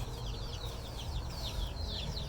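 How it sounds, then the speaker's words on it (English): Chickens cluck and chirp together in a busy, continuous chorus over low background rumble, the calls repeating close by. "Our chickens are ready for breakfast. I hear them talking."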